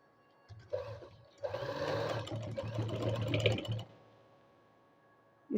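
A sewing machine stitches a zipper with an invisible stitch, running in one steady sustained burst after a brief start, close and fairly loud with no talking.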